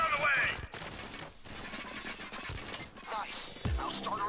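Rapid gunfire from the video game Payday 2, sharp repeated shots in bursts across the clip, fairly loud, with a brief voice briefly heard near the start.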